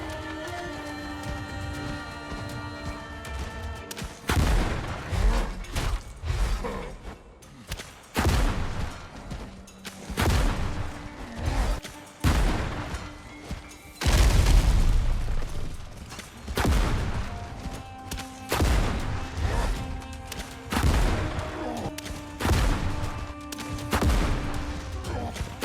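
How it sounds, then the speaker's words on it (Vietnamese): Gunshots from a player's gun in the pirate game Windrose, fired in repeated broadband bursts over a steady musical and ambient background, loud and close, with no talking. "Đánh nhau với thằng này thì tôi cứ chơi súng thôi."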